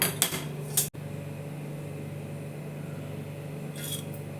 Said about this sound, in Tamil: கடாய் வச்சுட்டு ஸ்டவ் ஆன் பண்ணிக்கிறேன்